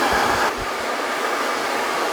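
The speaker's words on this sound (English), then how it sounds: "blow drying the sides round" A hair dryer blows steadily on the sides of long hair during a haircut, a loud, close, continuous airy rush that shifts slightly in tone partway through as the nozzle moves.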